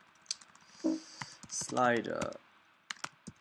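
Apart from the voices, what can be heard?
typing on a computer keyboard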